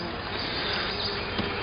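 Honeybees buzz around a hive inspected outdoors after a March swarm, a continuous dense drone that sounds near and steady throughout, with no voices.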